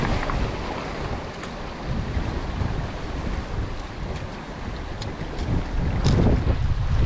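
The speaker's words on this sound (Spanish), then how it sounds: "Está el vientecito algo fuerte" Strong wind buffeting the microphone on a fishing boat at sea, a steady roaring rush with water wash beneath, swelling slightly toward the end, no talking.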